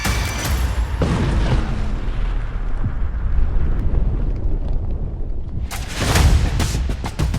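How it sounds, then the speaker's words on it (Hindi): A big blast at the Novorossiysk naval base of Russia's Black Sea Fleet, where a diesel-electric submarine is docked, rumbles as a loud, sustained roar with deep booming surges and a fresh burst near the end. "फिर नोवरोसिस्क अड्डे पर होता है बड़ा धमाका।"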